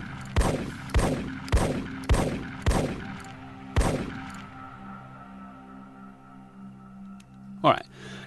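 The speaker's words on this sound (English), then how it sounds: "the last thing I want to show you is the shotgun" A shotgun firing in ARMA 3: six loud, booming blasts spaced roughly half a second apart, the last after a short pause, each with a ringing tail, then a lingering hum and one sharp mechanical clack near the end.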